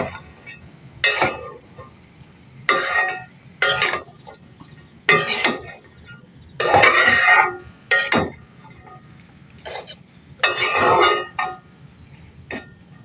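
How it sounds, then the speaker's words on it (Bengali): Chopped flat beans stirred in a pan, utensil scraping and clinking against the metal in short bursts with pauses between, close and moderately loud, no talking. "এখন এগুলো আমি হালকা করে নাড়িয়ে নেব।"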